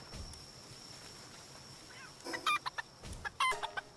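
Chickens in Palworld's ranch give several short, bright clucks in quick bursts over a quiet game backdrop with faint ambience. No one speaks.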